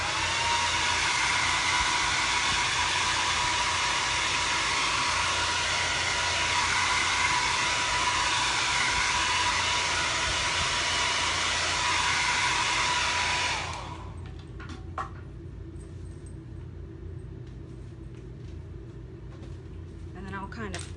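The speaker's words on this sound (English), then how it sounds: "Now I'm just gonna use the blow dryer and get off the excess glitter." A handheld hair dryer blows a loud, steady broadband rush while clearing excess glitter off chalk-stencilled pumpkin spice fall decor, then cuts off abruptly, leaving quiet room sound with faint handling noises.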